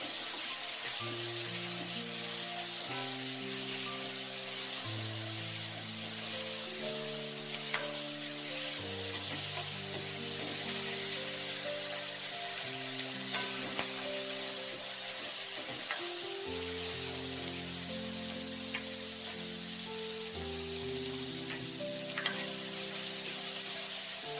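Onion and tomato sauté in a pan for paneer masala with a steady, soft sizzle. The sizzle runs the whole time beneath a bed of background music, with no voices.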